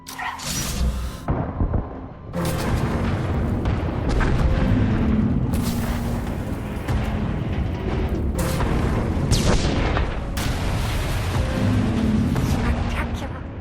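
Weapons fire and explosions from the Star Wars: The Old Republic game, Onslaught's Mek-Sha mission, pound continuously in a dense, loud barrage of booms and blasts with sharp bursts layered through it.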